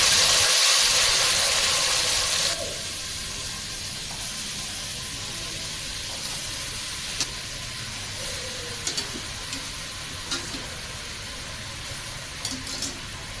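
Washed mushrooms drop into hot oil over a medium-high flame for a mushroom gravy, giving a loud initial sizzling hiss that settles into a quieter steady fry with occasional soft clicks and pops.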